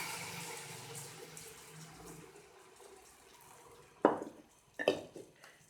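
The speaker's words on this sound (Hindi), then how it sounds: "इसमें हाफ कप पानी ऐड करके" Half a cup of water poured into a pan of frying chicken, a quiet trickle followed by a couple of louder splashing bursts near the end.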